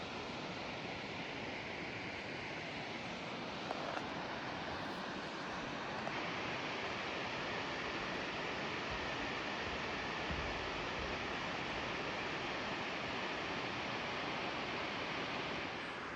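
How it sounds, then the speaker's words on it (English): Dangars Falls pours in a steady, broad wash of falling water, well over 100 metres straight down, heard as a constant distant roar with no talk. "Pretty good flow of water today."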